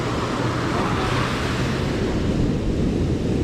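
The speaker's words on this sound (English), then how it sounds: "these waves that are coming in they're close and they're high for as close as they are" Ocean surf rolling in close and high at a beach, a steady broad wash of breaking waves with wind noise across the whole stretch.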